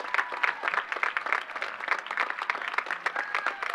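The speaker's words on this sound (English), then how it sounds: "I'd like to give you a round of applause" Audience applause at a high school commencement ceremony, many hands clapping in a lively, uneven patter at moderate distance with no speech over it.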